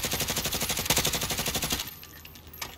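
Rapid automatic gunfire from a machine gun in the Warzone video game, fired using an anti-recoil macro, a loud steady burst of evenly spaced shots lasting nearly two seconds before cutting off into quieter game ambience.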